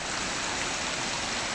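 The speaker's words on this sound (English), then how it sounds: "We have a river." A river rushes steadily beside a path below the hills near Hartsop and Glenridding, a broad unbroken roar of flowing water heard close up, with no voices.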